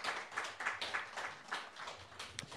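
Faint, fairly rhythmic clapping welcomes VIP guests at a Korean diabetes association policy pledge ceremony for the 2022 presidential election, with a steady pulse of claps heard from a distance.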